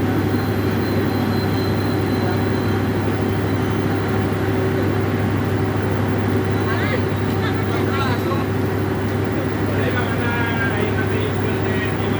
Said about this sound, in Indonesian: ada kereta api BBM yang juga masuk di stasiun Kroya